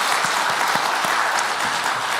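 Steady applause from a large church congregation during a Sunday service, dense and continuous clapping that fills the whole stretch at an even loudness.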